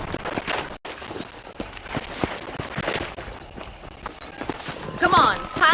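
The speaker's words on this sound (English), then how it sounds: "let's see if you can still ride a horse" Steady clip-clop of horse hooves while riding in Red Dead Redemption on PC, an even, rhythmic trot close by, with voices talking over the hoofbeats toward the end.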